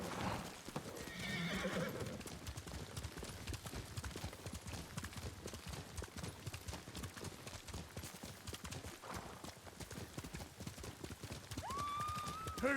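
A horse in the samurai video game Ghost of Tsushima runs with rapid, rhythmic hoofbeats throughout, close and steady under a dense mix, with a brief whinny near the start and a neigh at the end.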